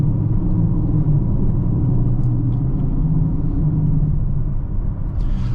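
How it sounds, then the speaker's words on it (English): A 2023 Mercedes-Benz GLC43 AMG rolls over a bumpy road at about 60, filling the cabin with steady, loud low rumble and road noise that continues without a break. No one speaks. "Takes the bumpy road nicely."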